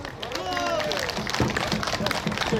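An audience at a press conference held by Vietnam War veterans breaks into applause, dense claps over crowd murmur and some talk, rising and holding steady through the clip.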